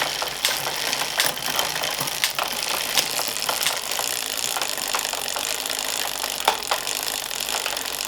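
Bicycle chain whirring steadily through the gears on a workshop stand, close and continuous, with faint clicks as it shifts and no talking.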